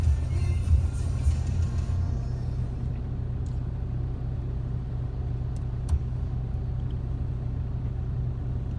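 A car with a 1.9-litre engine climbing a steep road without the accelerator pressed, giving a steady low engine rumble and road drone that stays even throughout, with no voices.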